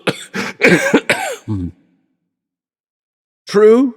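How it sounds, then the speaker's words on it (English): Several short bursts of harsh, forceful coughing up close, followed by a pause and then a brief voiced, groaning cough. "I shall not die of a cough."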